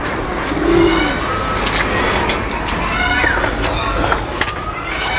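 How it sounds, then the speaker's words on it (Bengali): Pigeons at a pigeon farm coo repeatedly, with soft overlapping calls and a few sharper chirps over a constant close, noisy background. "এই হচ্ছে বন্ধুরা আমার কবুতরের ফার্ম।"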